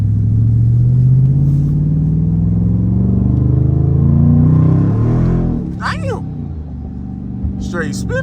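A Dodge Charger R/T spins its cold tires on a chilly road, the engine revving and rising in a loud, close rumble for about five seconds before easing off, with a voice speaking over the end.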